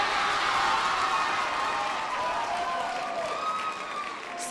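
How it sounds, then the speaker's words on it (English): An audience at a high school winter choir concert breaks into applause, a steady wash of many hands clapping that thins and fades toward the end, with a few voices mixed in. "A huge round of applause and thank you to everyone who bid and our winners in particular."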